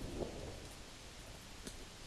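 Rain and thunder in the video game And Yet It Moves, a faint, steady hiss of rainfall with a soft rumble near the start and no talking.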